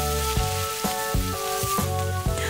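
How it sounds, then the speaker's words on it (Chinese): Bitter melon and fried tofu sizzling in olive oil in a wok, a steady loud hiss and crackle with a few soft clinks, no talking. "先将苦瓜放到一个炒锅当中，让苦瓜与橄榄油充分的混合，然后把油豆腐放进去。"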